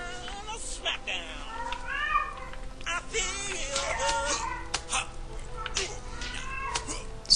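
A cat in the video game Evil Genius lets out several whiny meows over a busy game soundscape, while a voice talks throughout.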